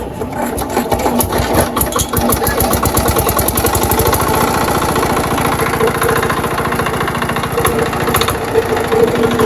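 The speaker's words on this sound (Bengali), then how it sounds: "আর এখন কিন্তু আমরা ইঞ্জিনটাকে স্টার্ট দিব" A small China-made 5HP diesel engine on a pump chassis runs steadily, its rapid, even chugging knock loud and close throughout, with a brief rougher start at the beginning.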